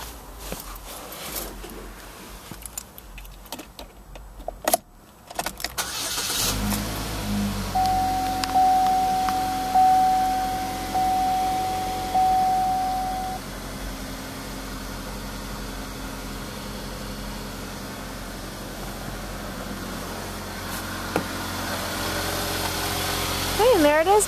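A 2012 Chevrolet Equinox 1LT engine cranks and catches at a dealership, then settles into a steady, fairly quiet idle with a low hum and a faint tonal whine running under it.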